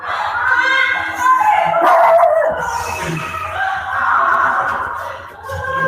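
A dog in ghost-hunting footage barks, yips and howls loudly and close by, in repeated bursts with whimpering tones, over a noisy background.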